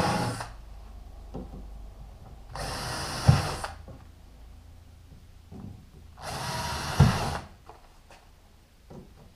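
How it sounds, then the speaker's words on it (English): Two bursts of a power drill whirring into wood, each about a second long, separated by quiet handling clicks and knocks. "I'm going to go ahead and drill a couple holes wherever I want them"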